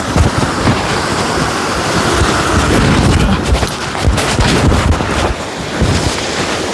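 Donabanda waterfall at Gottemukka pours down over rocks in a loud, steady rush of water, heard up close with wind buffeting the microphone.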